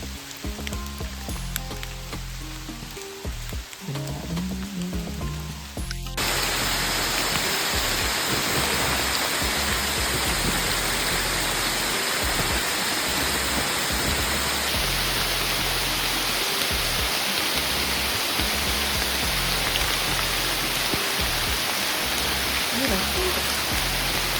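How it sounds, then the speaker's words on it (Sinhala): Rain falling in the misty Ritigala forest, starting as a softer patter under the trees and then swelling abruptly into a dense, steady, loud hiss of downpour that carries on unbroken. "පොඩ්ඩක් වැස්සකට අහු වුණා."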